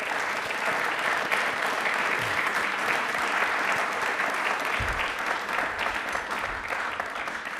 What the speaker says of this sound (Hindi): तालियां एक बार सर के लिए जोरदार होनी चाहिए प्लीज।